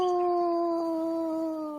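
A person imitates a wolf howl with one long, steady, wavering vocal tone that drifts slowly downward, moderately loud and close, with no other sounds around it.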